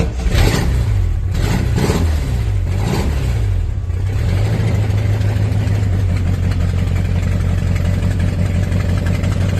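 A rat rod's engine cranks over for a few seconds, catches with a couple of revs, then settles into a steady, loud, rumbling idle that continues to the end.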